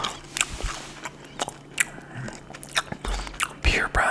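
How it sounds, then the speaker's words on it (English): Close, wet chewing of a fresh piece of chocolate mint gum, irregular smacks and clicks with soft whispering in between. "I'm just gonna spit out my gum here. And put a new piece in."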